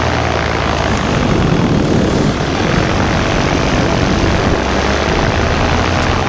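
A powered paraglider's propeller engine runs steadily at throttle during a flight over the Manistee beach area, a loud, continuous droning roar with broad wind-like hiss and no break for the whole stretch.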